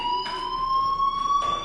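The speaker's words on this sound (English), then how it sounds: "do you hear that fire alarm?" Fire alarm sounding inside a building, a steady high-pitched electronic tone held continuously with faint pulsing overtones, moderately loud and heard alone.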